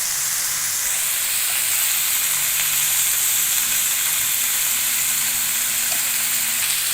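Potatoes fry in a kadai with salt and turmeric, giving a continuous bright sizzle and hiss that stays loud and even throughout, without anyone talking.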